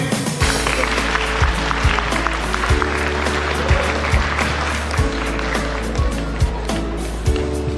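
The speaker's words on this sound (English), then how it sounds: "Clap all of you." An audience claps continuously at a prize distribution and felicitation ceremony, a dense, steady wash of applause nearby with recurring dull low thumps and faint voices mixed in.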